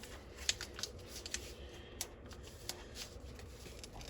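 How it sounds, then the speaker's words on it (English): Paper being creased and folded into a paper jet, with soft crinkling under a series of sharp crisp snaps and rustles at close range, quiet overall. "I'm putting a crease in this layer right here to match this one that I have here. And then I'm folding it down just like this."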